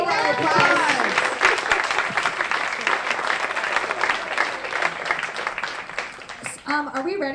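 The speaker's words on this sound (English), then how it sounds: "one round of applause" An audience claps loudly and continuously for several seconds at a live performance show, with cheering voices over it before the applause fades and someone starts speaking.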